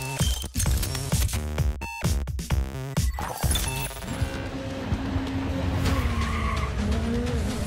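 Rally car in the video game Dirt Rally 2.0, tires skidding and squealing over a loud engine roar and rapid gear-shift bursts, busy and close with game sounds layered throughout.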